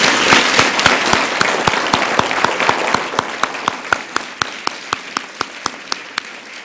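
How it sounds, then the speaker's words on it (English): An audience applauds debaters in a hall, broad clapping that thins out until a few loud, evenly spaced individual claps remain near the microphone. "first I think we should give the debaters and ourselves a round of applause"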